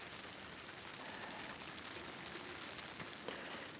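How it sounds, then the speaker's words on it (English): Freezing rain pattering steadily on a tent roof outdoors in winter, a dense, even hiss of tiny impacts, close and unbroken with no voices. "It sounds like freezing rain."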